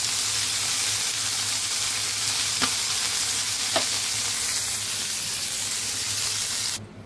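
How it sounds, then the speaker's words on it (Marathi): Two pieces of liver fry in a pan with a continuous, even sizzle, marked by a couple of faint clicks, before the sound cuts off abruptly at the very end. "तर हे बघा हे काळजीचे 2 तुकडे सुद्धा फ्राय करून घेते."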